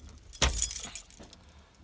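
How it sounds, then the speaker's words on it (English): Keys jangle sharply at a 1993-1997 Ford F-150 ignition, a loud burst of metallic clinking followed by a few fainter rattles, with no talking. "You turn your keys until that pin goes up inside."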